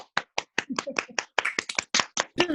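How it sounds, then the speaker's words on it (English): Scattered clapping from a small group on an online lockdown premiere, a handful of distinct sharp claps in an uneven rhythm, close and dry, with no crowd roar behind them. "Everybody give them a big, huge round of applause first."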